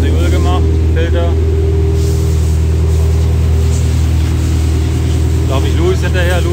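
Dakar Rally 2020 support vehicle engine idling steadily on a rest day, a loud continuous low rumble throughout, with voices talking over it at the start and end.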